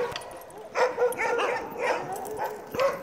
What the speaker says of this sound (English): I'm gonna go enjoy sled dogs.